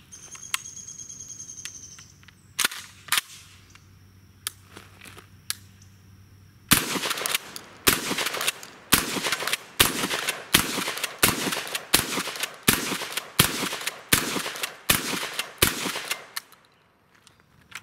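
A KelTec KSG bullpup pump shotgun fires 12 gauge shells outdoors in a fast run of about a dozen loud, sharp blasts, each followed by the clack of the pump action, after a few earlier isolated clicks and shots.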